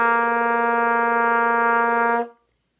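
Trumpet sustaining a single low C long tone, steady and clear for about two seconds before stopping cleanly, solo with no other sound.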